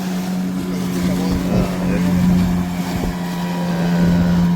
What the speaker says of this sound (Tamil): இதுல ஒரு போட் ஒன்று வருது பாருங்க, இவ்வளவு வேகமா வந்து வருது.